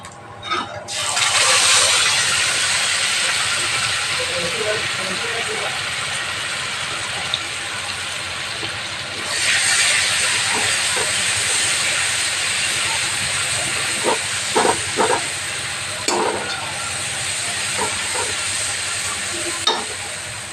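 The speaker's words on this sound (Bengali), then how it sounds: "তা এখন আমি সেটা তেলের মধ্যে দিয়ে দিচ্ছি" Continuous sizzling hiss from spice paste frying in hot oil, with occasional stirring clatters and a surge of sizzle midway.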